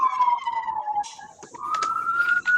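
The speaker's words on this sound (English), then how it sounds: "Sirens, it sounds like." A wailing siren sweeps down and then back up in pitch, continuous from start to finish, with muffled background noise beneath it.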